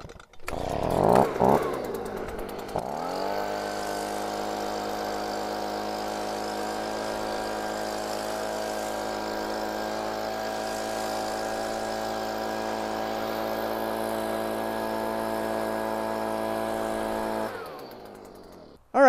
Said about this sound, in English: option number one for wet leaves, handheld blower